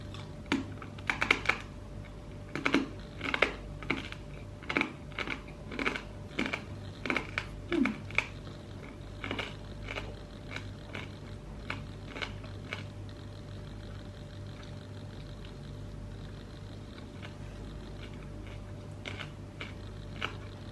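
Crunching bites of cheese-flavoured Australian rice crackers, several crisp snaps clustered in the first half then softer chewing crunches, close and fairly quiet, with no talking.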